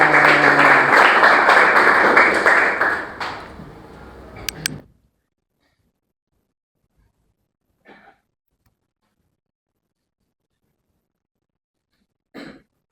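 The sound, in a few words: group applause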